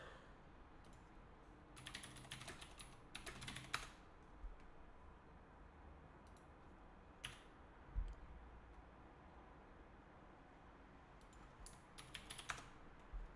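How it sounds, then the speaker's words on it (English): Computer keyboard typing, quiet bursts of clicky keystrokes separated by pauses, faint and close with no talking. "Oh, now you're on the keyboard."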